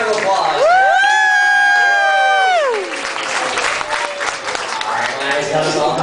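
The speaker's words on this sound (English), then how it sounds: "Another nice round of applause!" Audience applause and cheering at a live show, starting with a drawn-out whoop before a crowd of clapping and shouts carries on to the end.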